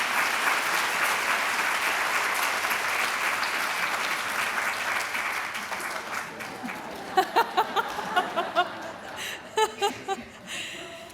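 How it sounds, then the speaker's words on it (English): Audience applause for faculty and alumni inductees at a Delta Omega induction ceremony: a dense, steady round of clapping that thins toward the end into scattered individual claps, with a few light chuckles mixed in. "Please join me in giving them a round of applause."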